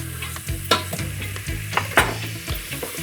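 Garlic sizzles in a hot pan, a steady crackling fry broken by several scraping stirs that come in quick, uneven bursts, close and fairly loud, with no speech.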